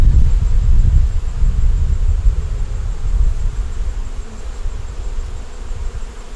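Honey bees buzzing around an open hive of deep 8-frame boxes, a dense, steady hum close by with some rustling at the start, fading slightly.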